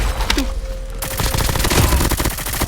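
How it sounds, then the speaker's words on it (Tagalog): Video game gunfire rattles in dense rapid bursts, loud and continuous like a fusillade, with layered shots throughout. "May bumabaril sa akin iba."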